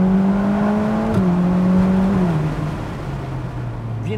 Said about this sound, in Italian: se io scalo qualche rapporto, andiamo in seconda e vado giù tutto di gas